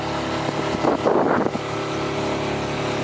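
Petrol outboard motor driving a small boat on the water between Aalborg and Randers, a steady engine drone with wind and water rushing, a brief louder splash-like surge near the middle, no talking.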